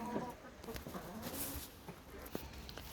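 Hen clucking in a backyard coop during evening feeding, several soft clucks and calls spread over a few seconds against rustling and background noise, with no talk.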